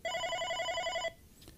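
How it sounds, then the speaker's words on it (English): A Siemens OpenStage 15 desk phone rings for an incoming call: one steady electronic trill burst about a second long, clear and close, then it stops abruptly into quiet. "you wait for the call to start ringing"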